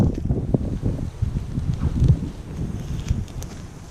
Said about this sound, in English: You can see how the wind's swirling around today, trying to catch me out.